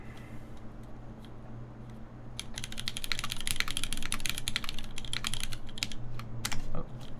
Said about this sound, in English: These are TriboSys 3204 looped MX Blacks with 65-gram springs and TX films, and we have GMK Pacfic on this board.